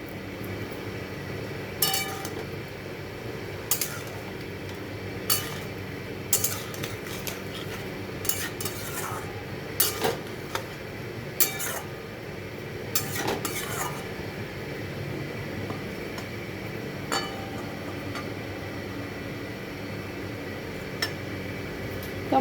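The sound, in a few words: stirring ground roasted garam masala into cauliflower curry in pan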